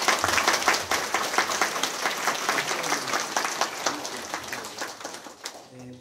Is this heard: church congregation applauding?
yes